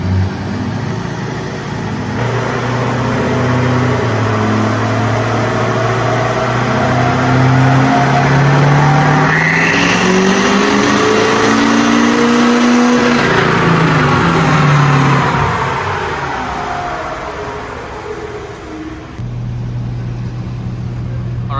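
Ford Powerstroke diesel truck with an emissions delete running on a dyno, engine climbing through a long loud rev that peaks midway and then winds down, with steady heavy drone throughout.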